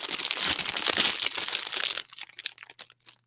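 A product's plastic packaging bag crinkles loudly for about two seconds as it is opened, then a few softer scattered rustles and crackles follow before fading out.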